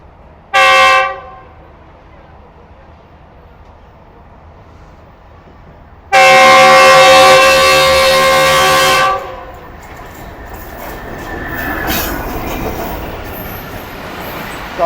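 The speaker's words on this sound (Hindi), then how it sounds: "ये आ गई है मेरी आज की ट्रेन 47 अब रहमान बाबा एक्सप्रेस" A Rahman Baba Express passenger train pulls in, giving a short horn blast, then a long loud sustained horn, followed by the rumble and clatter of the arriving coaches.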